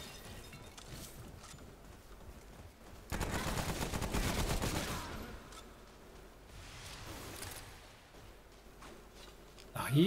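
A 200-round light machine gun in Remnant: From the Ashes lets off a dense, loud burst of rapid fire for about two seconds, with players chatting around it.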